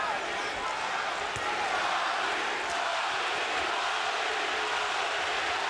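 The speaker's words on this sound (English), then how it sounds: "Crowd begins to chant" A packed boxing arena crowd at Arturo Gatti vs. Micky Ward III in 2003 roars in a dense, continuous wash of voices, with occasional sharp bangs.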